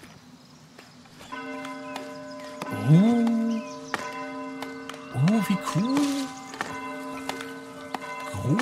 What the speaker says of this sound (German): Wir läuten einmal. Der Glockenturm steht ja schon.